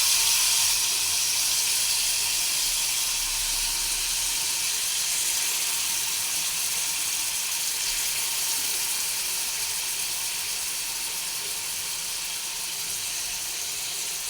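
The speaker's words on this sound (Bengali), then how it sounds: "চিকেনের পিসগুলোকে দিয়ে হালকা আঁচে ভেজে নেব।" Chicken tikka pieces frying over low heat in a pan with butter and oil, giving a steady, even sizzle that carries on without a break and softens slightly toward the end.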